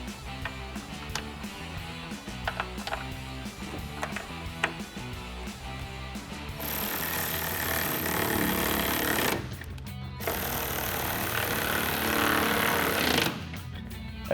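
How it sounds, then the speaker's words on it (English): Power driver running two screws with an 8mm socket into the side of an LED tail light on a 2015-2020 Ford F-150 Raptor; a steady whirring drive with brief stops, preceded by lighter clicking handling. "take your 2 screws, thread them into the side, and run them in with an 8mm socket"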